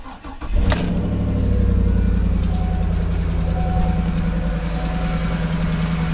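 A 2010 Cadillac Escalade with an LS V8 cranks briefly and catches, then settles into a loud, steady idle close by, with no talking.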